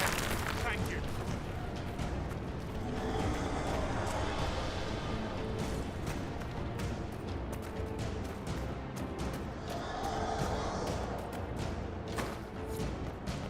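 A deep, rumbling explosion in the video game Dragon Age: Inquisition, with sustained roaring blasts and crashing debris that swell twice, mixed with voices speaking over the din.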